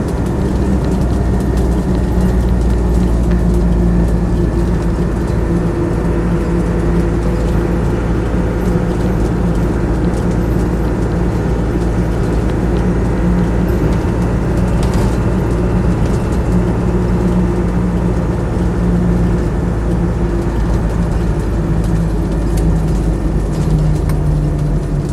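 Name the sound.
Land Rover 90 300Tdi soft top engine while driving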